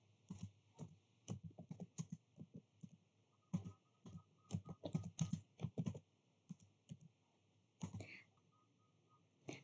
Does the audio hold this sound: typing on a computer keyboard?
yes